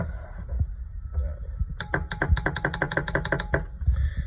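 Rapid, even mechanical clicking repeats about a dozen times in a steady burst, a faulty starter relay solenoid on a 1995 Yamaha WaveRunner chattering up close over a low hum.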